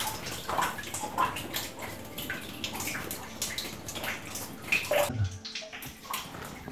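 Sacred water flowing inside an artificial temple cave at Montserrat, a continuous close splashing and trickling stream with bright drips, alone before a sudden stop near the end.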